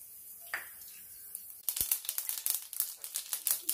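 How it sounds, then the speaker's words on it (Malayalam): Mustard seeds crackle and pop sharply in hot coconut oil in a pan, a sudden onset of rapid, irregular spluttering bursts that continue densely after a quiet start. "കടുക് പൊട്ടി അതിലേക്ക്"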